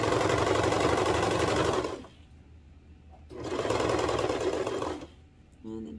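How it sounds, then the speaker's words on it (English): Serger sewing machine stitching the crotch seam of kids' sweatpants, running in two steady, loud, close bursts of rapid mechanical whirring with a pause between them. "I'm just gonna serge this entire crotch part here, making sure that the crotch curve seams line up."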